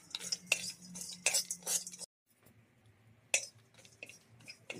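Cracked nutmeg pieces dry-roasting in a pan for homemade garam masala, stirred with a spoon that clinks and scrapes against the metal in short bursts, with a brief pause before the stirring resumes.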